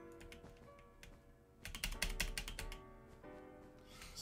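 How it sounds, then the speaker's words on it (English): A computer keyboard clatters during a Bedwars game session, quiet bursts of quick key taps that swell into a denser flurry of presses midway before easing off. "Sorry for the loud pressing of the keyboard."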